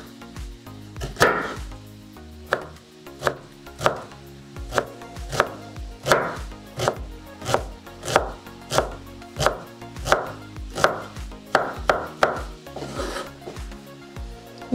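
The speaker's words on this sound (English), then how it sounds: "I'm gonna also chop in a very small pieces this onion." A knife chopping onion, bell pepper and cherry tomatoes on a cutting board for a vegetarian pizza: steady, evenly spaced sharp chops, close and clear, continuing without talk.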